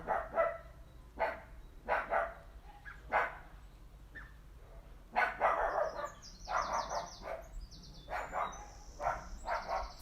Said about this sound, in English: You hear a little cross dog.